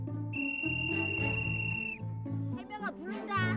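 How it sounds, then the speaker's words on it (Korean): On an island, a whistle sounds one long, steady, shrill blast to call goats, with other low sounds and voices in the background. "밥때가 되면 호루라기를 불어서 염소들을 불러 모은다는데"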